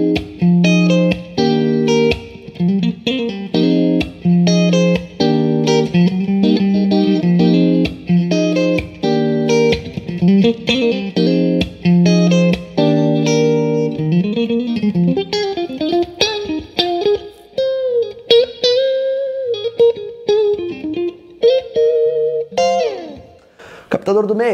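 A new electric guitar played on a clean tone with the neck and middle pickups combined, loud chords and melodic runs ringing steadily with some effects coloring, no voice over the playing.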